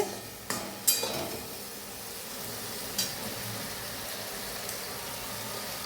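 Tomatoes sizzle and fry steadily in a pan in a village kitchen, a constant bright crackling hiss with a few louder clinks and stirs near the start and middle.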